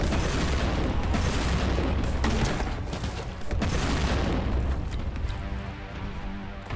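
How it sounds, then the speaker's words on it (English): Weapon fire and delayed blasts in the shooter game Warhammer 40,000: Boltgun, a loud continuous barrage of gunfire and booming explosions with dense low rumble throughout. "It's like a delayed explosion."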